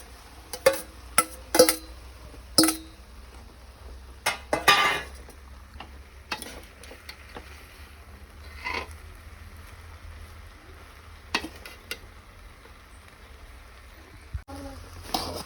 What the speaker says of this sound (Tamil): அந்த சாப்பாடை பூரா போட்டு இப்போது கிளறிடலாம்